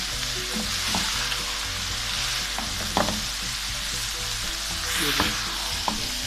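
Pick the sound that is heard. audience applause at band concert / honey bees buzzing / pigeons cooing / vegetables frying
vegetables frying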